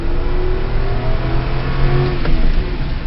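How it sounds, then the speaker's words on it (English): A 2005 Ram Dakota's V8 engine revs with a deep, throaty grumble. Pitch rises and falls through a couple of throttle blips, loud and close, with no talk over it. "Because V8s have that grumble, they have that nature, they have that beautiful enthusiasm"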